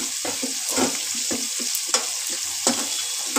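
Capsicum and tomato fry in a pan for vegetable chow mein, a steady close sizzle broken by scraping stirs and a few sharp spatula taps.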